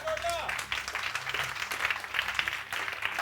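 Congregation in a church breaks into applause, a fairly faint patter of clapping beneath a speaking voice that carries on throughout.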